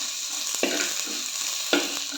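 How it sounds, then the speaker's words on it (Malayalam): Green chilies sizzle steadily as they are sautéed in hot oil for a coconut-based fish curry, with a constant fry hiss and a couple of soft stirring scrapes, close and alone without talk. "ഇനി ഇതിലേക്ക് പച്ചമുളക് ആഡ് ചെയ്ത് കൊടുക്കാം എന്നിട്ട് നല്ലോണം വഴറ്റുക"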